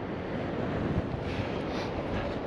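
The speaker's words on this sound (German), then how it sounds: "Aber der Wind ist doch ganz schön, ja." Wind blows across the Kiel Fjord during a paddling tour near Bülk lighthouse, making a steady, close buffeting roar throughout with no talk.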